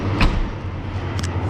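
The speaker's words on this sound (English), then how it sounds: "let me close it real fast because it was saying the hatch is open" A Volkswagen R32's hatch slams shut with a solid, close thud, followed by a second lighter knock about a second later, all over the steady low hum of the idling engine.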